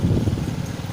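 A motorcycle engine rumbles close by at a fishing lake, a low, uneven drone that holds steady for a moment as it passes, with no talking.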